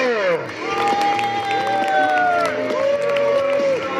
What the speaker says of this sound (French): Vous n'étiez pas obligé de l'applaudir.